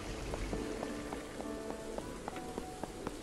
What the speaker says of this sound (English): I should have picked a better day to be walking up and down the street, but... because it's raining